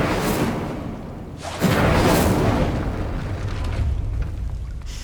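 Incendio, a fire spell in the Hogwarts Legacy video game, bursts out as a sudden whooshing roar of flame that swells and then trails off into a crackling rumble, loud and close, with no speech.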